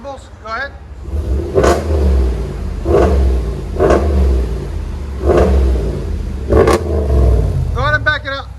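Four quick, loud throttle blips from a GMC Sierra AT4's 6.2L V8 exhaust punch out over a deep idle rumble, with people talking briefly at the start and end.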